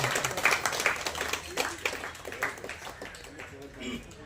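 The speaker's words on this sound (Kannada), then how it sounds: "ಅದೇ ರೀತಿ ನಮ್ಮ ಪ್ರೇಮ ಮೇಡಮ್ ದಯವಿಟ್ಟು ನಮ್ಮ ಅಧ್ಯಕ್ಷರಿಂದ ಹುಟ್ಟುಹಬ್ಬದ ಹೂವನ್ನು ನಿಮ್ಮೆಲ್ಲರ ಚಪ್ಪಾಳೆಯೊಂದಿಗೆ ಶುಭಾಶಯಗಳು." An audience claps at a birthday greeting during a coffee-shop gathering, brisk scattered applause under and between talk, moderately loud and close.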